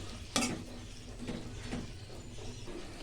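Spices and a little water stirred in a cooking pan for a Bengali egg curry, a faint bubbling sizzle with a sharp utensil clink near the start and a few softer scrapes after.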